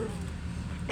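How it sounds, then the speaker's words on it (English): A dog barks at a big man, a single sharp bark bursting out at the very end after a quiet, low background. "Chip, why are you barking at that big guy?"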